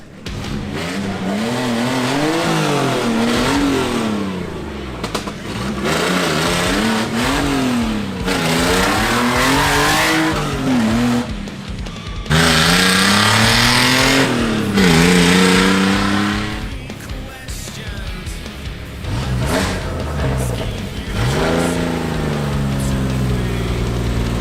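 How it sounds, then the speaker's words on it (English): A modified VW Beetle drives at Bernie Fest with repeated loud engine revs rising and falling through the gears, tire squeal and skidding mixed in, close and continuous throughout. "the Beetle is now out driving around"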